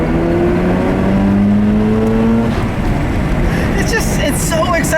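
A 2004 Mazda RX-8 engine hums steadily while driving, a sustained rising drone under continuous road and cabin noise, fairly loud throughout and easing after a few seconds.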